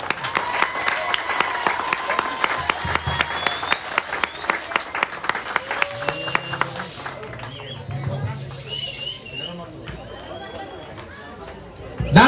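Crowd applause at an awards ceremony for dance groups in Fresnillo, steady clapping under ongoing chatter and an amplified announcer's voice, gradually thinning into crowd murmur before a loud bump at the end.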